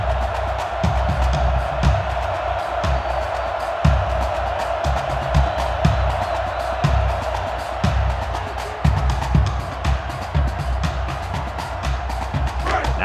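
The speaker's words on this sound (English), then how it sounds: "The crowd is really letting them hear it." A stadium crowd roars steadily through a Florida Gators versus Tennessee Volunteers rivalry game in NCAA Football 2005. A dense, sustained wall of cheering runs throughout, with rhythmic thumps, and a commentator talks over it.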